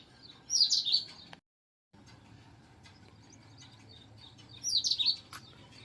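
A small sparrow in a garden gives two quick bursts of bright chirps, a few seconds apart, over quiet outdoor background.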